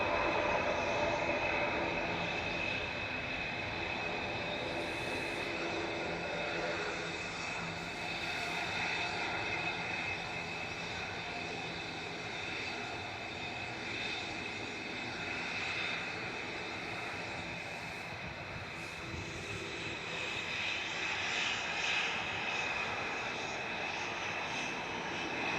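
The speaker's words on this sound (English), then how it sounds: "Now we're about to have our first noisy prop departure." A propeller aircraft departs Manchester Airport with a constant droning engine hum, broad and fairly distant, holding steady throughout with no voices.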